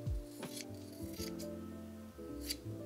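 Scissors snip through organza fabric during dressmaking for a corset bodice prom dress, giving several quick close cuts over a steady hum, with no talking.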